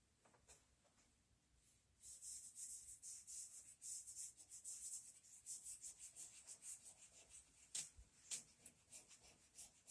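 Charcoal rubbed on paper to build a dark tone, heard as close, soft repeated scratchy strokes in an uneven rhythm, quiet at first and then continuing steadily with no talk.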